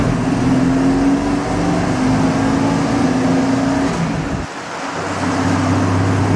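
A 1965 Ford Econoline van pulls hard through its gears, the engine droning loud and close inside the cab, dropping briefly at a shift and then pulling again at a lower pitch.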